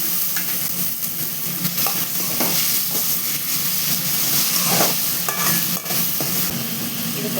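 Onions and tomatoes sauté in a pan for a chicken gravy, filling the space with a loud, dense, unbroken sizzle and hiss, while frequent spatula strokes add soft scraping pulses throughout.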